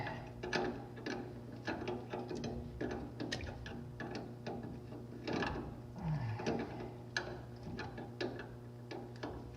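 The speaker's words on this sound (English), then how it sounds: "This bolt actually is holding the proportioning valve, so let's get that loose." Wrench ratcheting on the bolt that holds the proportioning valve to a Chevrolet C10 master cylinder, a quiet, steady series of mechanical clicks and taps with no talking.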